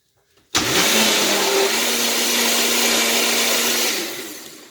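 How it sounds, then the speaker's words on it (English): A kitchen blender whirring squash cupcake batter, starting abruptly and running loud and steady for about four seconds before winding down. "I'm going to get this blended up"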